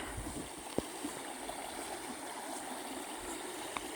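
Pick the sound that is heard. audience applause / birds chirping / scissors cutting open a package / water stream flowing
water stream flowing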